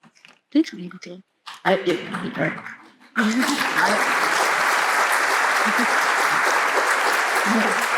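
A burst of applause from an audience at a literary talk, starting after a few moments of scattered talk and sounds, then sustained steady clapping filling the room.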